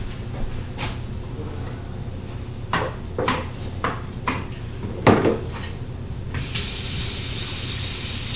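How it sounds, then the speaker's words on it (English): A kitchen sink is rinsed out with tap water, starting with clinks and knocks of dishes and cupboard bumps before the faucet opens into a steady, loud rush of running water near at hand. "you want to rinse out your sink as well."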